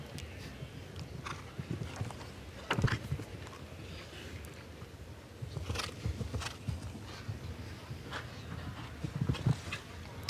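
Horse hooves thud over a show-jumping course at the Falsterbo Nations Cup, heard as scattered dull strikes under a crowd's ambient murmur, with a louder cluster of impacts midway and again toward the end.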